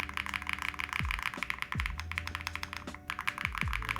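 Close, fast typing on a retro game-themed mechanical keyboard fitted with Game 1989 switches and PE film, a dense run of crisp clacks with a few louder thocks, no talking.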